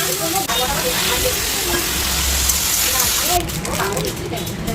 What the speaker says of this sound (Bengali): এখানে সব ফ্রাইড রাইসের সব জিনিসপত্র ভাজাভাজি করছিলাম।